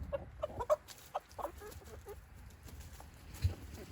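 White silkie chickens cluck softly in short, scattered bursts, close by and fairly quiet, with no other sound over them.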